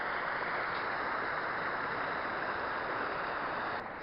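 Steady broadband rush of a wilderness waterfall spilling over a rock edge from level ground. It is close and loud, a continuous roar with no pauses.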